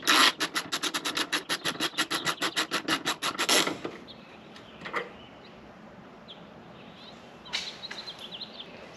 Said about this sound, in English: we're going to take our 10mm socket and ratchet, or your crescent wrench if that's what you're using, and remove that bolt